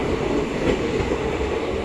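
A train pulling out of Salar station, its steady broadband rumble and rail noise rolling on evenly and fairly close, with no voices over it.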